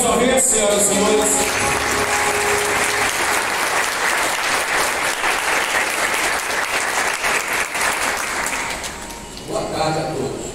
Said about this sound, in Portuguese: vamos aplaudir mais uma vez, senhoras e senhores.